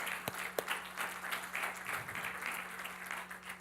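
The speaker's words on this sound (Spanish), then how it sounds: "Démosle un aplauso al Señor por eso." Church congregation applauding together, a steady wash of clapping from many hands in a reverberant hall, moderately loud and unbroken, with no speech over it.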